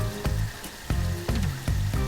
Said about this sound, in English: My saltfish is boiling very nicely.